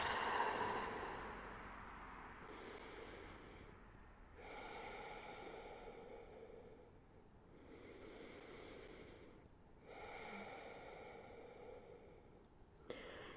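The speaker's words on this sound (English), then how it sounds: "Big breath in. Big breath out." Slow, deep breaths in and out, taken in long, even cycles with breathy hisses separated by short pauses, close and fairly quiet with no talking.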